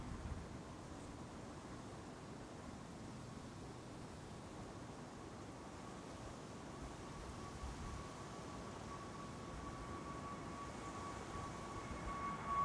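An SAS Airbus A320neo departing Schiphol runway 24 makes a distant, faint broadband jet roar that slowly swells toward the end, with a thin tonal whine over it and no voices.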